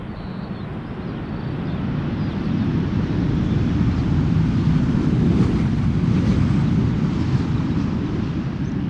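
A large jet, a Boeing 747 arriving from Miami, passes at Schiphol Airport as a steady, loud, low engine roar that swells slightly and holds, mixed with wind noise outdoors, with no talk.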